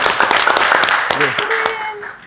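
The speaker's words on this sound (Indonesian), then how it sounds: "Tepuk tangan." People in a podcast studio applaud in a brief scatter of claps while voices talk over them.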